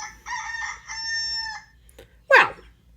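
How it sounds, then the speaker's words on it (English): A rooster crows once, close and clear, in a long drawn-out cock-a-doodle-doo, followed by a brief sharp squawk. "I think that is a rooster."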